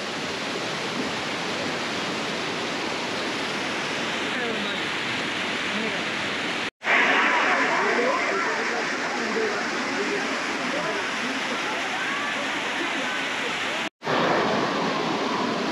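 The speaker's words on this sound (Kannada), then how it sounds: "ಸೊ ಫುಲ್ ನೀರು ಹರಿತಾ ಇದೆ" Water rushes loudly and steadily over Mooshi dam during the monsoon, a dense, close roar of falling water that fills the whole scene and drowns out any voices.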